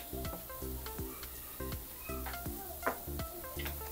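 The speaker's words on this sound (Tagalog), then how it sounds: "Haluin ng bonggang-bongga." Mushrooms and finely sliced cabbage stir-fry in sesame oil for beef chaofan, with a steady sizzle and the scrape of repeated stirring, all under background music.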